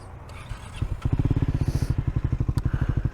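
Motorcycle on a charity egg run, its engine catching and settling into a loud, close, rapid pulsing idle after a few thumps and clatter.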